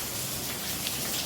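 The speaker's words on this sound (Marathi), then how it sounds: "आज पाऊस जोराचा आहे." Heavy rain pours down outdoors as a dense, continuous hiss of water striking surfaces. It is loud and even throughout this short moment.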